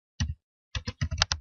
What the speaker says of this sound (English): Just go to the URL bar and type in